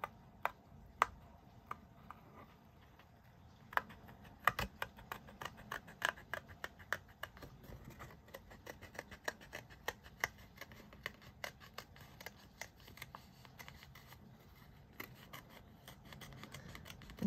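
Paper is cut out with scissors for a craft journal spread, a long run of crisp, close snipping clicks at an uneven rhythm over quiet room tone, with no talking.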